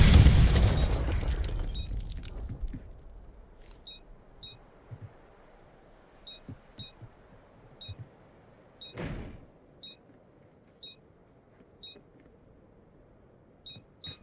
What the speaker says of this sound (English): I'm just gonna let this bomb blow up.